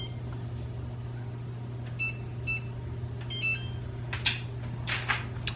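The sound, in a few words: setting an oven timer, beeps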